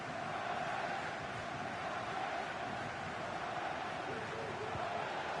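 A steady, full roar from the football stadium crowd at the Portsmouth vs Blackburn Rovers EFL Championship match holds at an even level throughout, with no clear breaks or swells.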